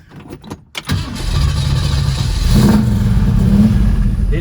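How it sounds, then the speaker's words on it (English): A 1968 Ford Mustang GT350 Shelby tribute cranks with a few uneven bursts, then catches and settles into a loud, steady idle that swells into a rising rev partway through, heard up close with no talking. "Let me get back here and fire this thing up for you."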